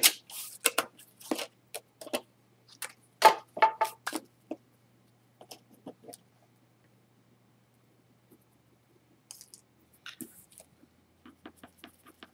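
A 4x6 patterned paper card with a map design is cut in half for a scrapbook album, giving a quick run of crisp, close cutting snaps and crunches, then near silence with a few faint rustles.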